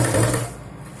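A sewing machine stitches a Punjabi dress in one brief, close, fast whirring run of stitches that tapers off at the end.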